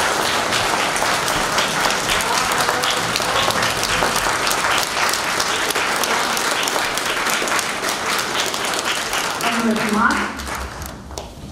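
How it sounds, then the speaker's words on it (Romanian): Sustained audience applause for the performers of a staged reading of the play Chirița în provincie, dense and loud clapping filling the room before tapering off near the end as a voice begins speaking. "cei care au fost protagoniștii Chiriței în provincie merită niște aplauze"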